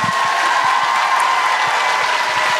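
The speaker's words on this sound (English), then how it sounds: "Big round of applause for Annie Potts and Nik Taylor" A live audience at a Christchurch show applauds, a dense, steady burst of clapping from many hands that fills the room, close and loud throughout.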